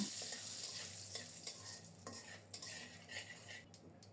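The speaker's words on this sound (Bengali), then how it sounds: "সরিষার তেল দিলাম গোটা জিরা পোড়নে দিব দুইটা তেজপাতা দিলাম" Whole cumin and two bay leaves crackling in mustard oil in a pan, with a utensil stirring and clinking against the metal; a soft, continuous sizzle with irregular scraping taps.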